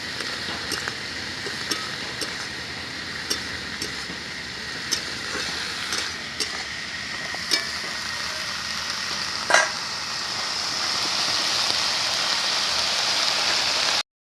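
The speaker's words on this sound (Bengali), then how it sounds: "দেখো পেঁয়াজ কুলিগুলোকে হালকা করে আমি ভেজে নিয়েছি" Onion stalks frying in oil with salt and turmeric, a continuous close sizzle with scattered sharp crackles and pops that swells louder toward the end.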